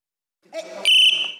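A single sharp, high-pitched referee whistle blast at a disabled athletes' league match, short and loud, preceded by a brief softer sound.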